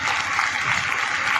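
A dense crowd at a farmers' rally claps steadily without a break, a loud, even wash of applause with no voices standing out.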